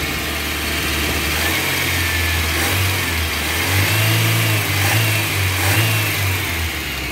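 A Toyota Starlet EP90 engine with a dead second cylinder revs up and holds a raised speed in several swells over a rough, uneven idle, close and loud with no voices.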